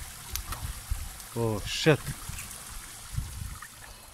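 A short splash as a fish is released into a garden pond, followed by a man's quick exclamation, with a light outdoor background.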